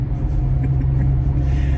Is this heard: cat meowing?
no